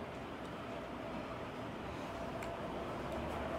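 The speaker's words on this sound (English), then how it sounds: "this fan isn't new, which is why it's making so much noise" A worn Jamaica Wind ceiling fan runs at speed 3 after two months of use, giving a faint, steady whooshing drone with a thin mechanical whine underneath and no talk.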